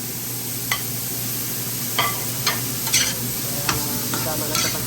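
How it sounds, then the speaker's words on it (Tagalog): Chopped tomatoes go into a pan of cooking monggo with a steady sizzle, as a utensil stirs and scrapes the pan in a few sharp clicks over the constant frying hiss. "Lagyan na rin natin yung kamatis."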